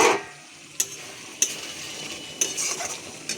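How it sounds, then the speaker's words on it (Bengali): Spice masala for vegetarian ghugni sizzles as it fries in a pan. A spoon stirs it, with a few sharp metallic clinks against the pan over a soft, steady frying hiss. "আর একটু মশলাটা কষিয়ে নিই"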